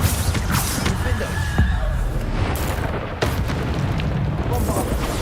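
The Bombarda spell explodes in Hogwarts Legacy as a deep, rumbling boom that swells within dense, continuous combat noise, with a few sharper impacts scattered through the din.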